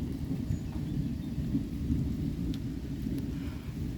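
Steady rain hisses throughout a hailstorm-season thunderstorm while low thunder rumbles continuously underneath, with faint crackles high above; no voices.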